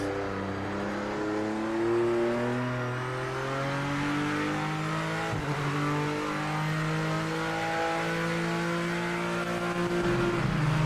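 A BMW M4 race car in the Project Motor Racing sim revs up and down through the gears, its engine whining close and loud, with a sharp brake-and-downshift moment midway and no talking over it.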